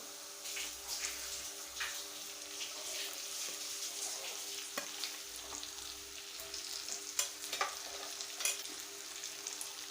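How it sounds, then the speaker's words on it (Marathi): Stuffed brinjals (eggplants) frying in oil in a pan, a quiet, steady crackling sizzle with scattered pops and a faint low hum underneath, heard alone. "आता हे वांगे पाच मिनटं तेलात परतून घ्यायचे"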